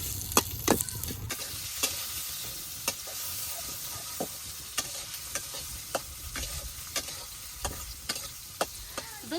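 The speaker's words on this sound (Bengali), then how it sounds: "কাঁচামরিচ পেঁয়াজ ভালোভাবে ভাজা নেই।" Chopped onion and green chillies frying in oil in a pan, a steady close sizzle broken by regular sharp clicks of a spatula stirring, with no voices.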